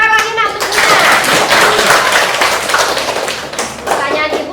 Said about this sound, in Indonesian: Tepuk tangan lagi nak untuk Nina.